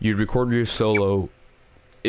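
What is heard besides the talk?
No distinct noise like a dog, phone or traffic.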